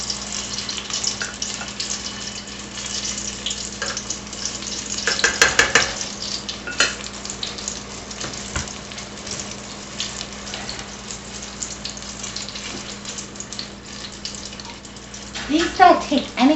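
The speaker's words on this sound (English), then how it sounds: "These don't take any time at all to fry." Apple fritters frying in hot oil, a steady close crackling sizzle with occasional louder bubbling pops, while a person talks.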